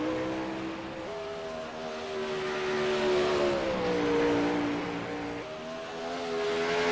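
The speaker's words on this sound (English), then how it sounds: "He's the only car at speed right now." A lone race car circles the track at speed, its engine droning steadily with pitch shifts as it changes gears and passes, heard from a distance without commentary.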